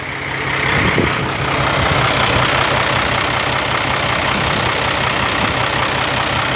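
A large white Isuzu truck engine runs close by, a loud, steady diesel rumble that holds at an even idle throughout.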